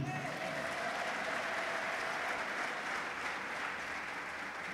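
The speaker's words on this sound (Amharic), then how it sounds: "ለዚህ ቃል አጨብጭቡ እስቲ" A church congregation applauds during a sermon, a steady, dense clapping that holds at an even level for the whole stretch.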